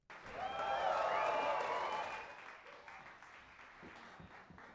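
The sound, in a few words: applause crowd sound effect being mixed in Pro Tools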